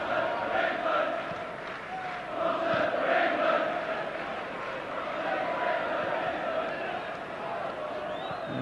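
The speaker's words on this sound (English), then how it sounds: "the cry from the crowd of Robson for England" A football crowd at a 1991 Manchester United v Legia Warsaw European Cup Winners' Cup match chants for Robson, a loud, swelling massed roar with rhythmic rises, heard under commentary.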